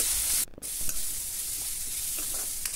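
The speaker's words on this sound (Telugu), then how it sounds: "గ్యాస్ మీడియంలో పెట్టి ఉల్లిపాయని చక్కగా బాగా వేసుకోవాలి." Onions frying with a little salt over medium heat in a pan, giving a steady close sizzle throughout with a short break near the start and a few faint stirring scrapes.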